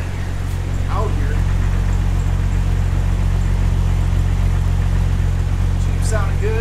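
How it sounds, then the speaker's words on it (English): Jeep engine running outdoors on a freezing day, a loud steady low idle rumble that holds constant throughout, with faint chirps and a brief higher sound near the end. "Jeep sounding good."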